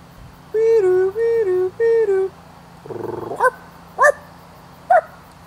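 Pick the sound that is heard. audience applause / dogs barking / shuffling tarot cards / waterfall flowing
dogs barking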